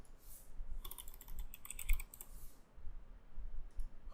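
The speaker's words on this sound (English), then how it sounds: "so let's type that in" Quiet close-up typing on a computer keyboard, a short run of light rapid key clicks with small pauses, faint and alone with no speech.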